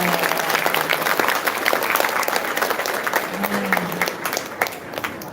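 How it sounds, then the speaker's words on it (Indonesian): Audience in a school hall applauding during a 56th anniversary opening ceremony, steady dense clapping throughout with crowd murmur, no one speaking over it. "Tepuk tangan untuk beliau."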